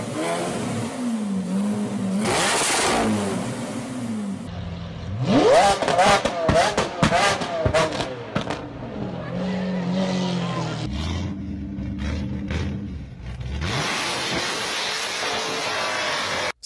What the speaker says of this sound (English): Loud exhaust in the state of California.